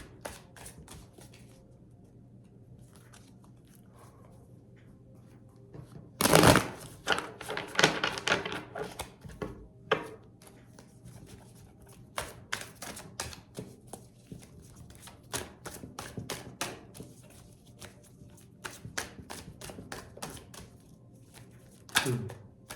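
Oracle cards are shuffled by hand in repeated bursts of riffling and flicking, with short crisp slaps and taps between them, close and intimate, without talk.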